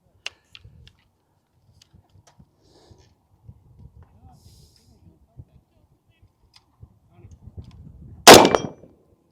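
After several quiet seconds of faint clicks and handling noise, a PSA JAKL rifle fires one sharp, loud shot at a 50-yard 8-inch steel gong. The shot decays briefly afterward.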